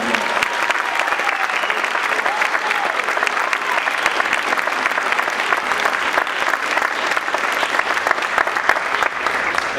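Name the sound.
crowd applause at a church rally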